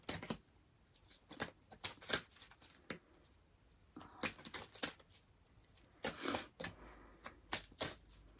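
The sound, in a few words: shuffling large tarot cards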